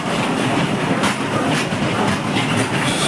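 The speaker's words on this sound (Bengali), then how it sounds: "মালগাড়ি এটা" A freight train rolls past on a road near a check gate, with steady rumbling and faint rhythmic wheel clatter filling the whole stretch, loud and continuous with no talk.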